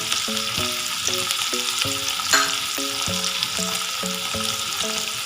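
Corn, paneer and capsicum sauté in a pan for Mexican rice, a constant close sizzle over a steady rhythm of spatula stirring.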